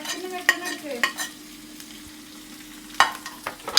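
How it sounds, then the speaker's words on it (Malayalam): Onions being sautéed in a pan for a homemade chicken dish, a steady close sizzle broken by scraping stirs of a spoon against the pan, with several sharper clinks near the end and no talking. "ഉള്ളി നല്ല പോലെ വഴറ്റണമെന്നാണ് പറയുന്നത്"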